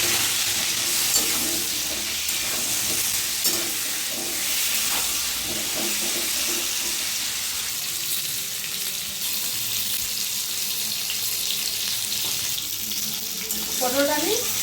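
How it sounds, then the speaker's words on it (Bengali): Pointed gourd (potol) pieces with salt and turmeric fry in a hot pan, a steady broadband sizzle running throughout with scraping stirs and a faint splash of tap water near the end. "পটলটা আমি ভালো করে ভেজে নিয়েছি"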